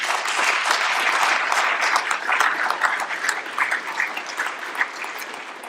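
A school-event audience claps loudly and steadily, then the applause thins and fades gradually toward the end with no voices over it.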